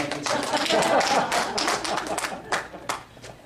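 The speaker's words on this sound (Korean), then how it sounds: "박수를 제일 쳐시는 분들 복을 받겠습니다" A church congregation claps steadily in a rhythmic burst of hand claps while a pastor's voice carries over it, fading toward the end.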